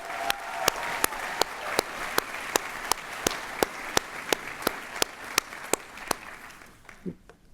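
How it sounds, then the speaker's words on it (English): Graduation ceremony audience applauds Master of Science graduates in communications: continuous crowd clapping with sharp, evenly spaced loud claps standing out near the microphone, fading out at the end with a brief voice. "Let's have one more round of applause for our Master of Science graduates."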